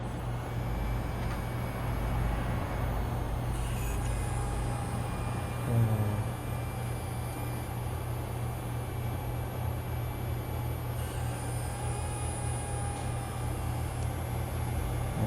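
A Mini 4WD Spin Cobra kit car's small electric motor, run at about 4.6 V, gives a steady, unbroken whir with a faint high whine that holds evenly for about fifteen seconds, with no voices.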